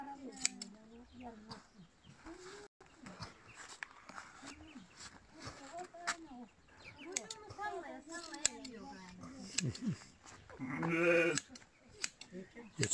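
Sheep and lambs bleat repeatedly at close range during village sheep shearing, mixed with people talking and clipping sounds from shears.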